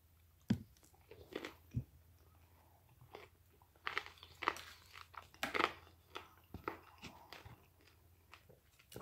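Close chewing of chili con carne: crunching bites and wet mastication in irregular bursts, fairly near and moderately loud, with quiet gaps between mouthfuls and no talking.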